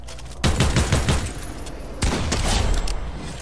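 Video game gunfire, two dense bursts of rapid shots, the first about a second and a half long, then a second burst, loud and close.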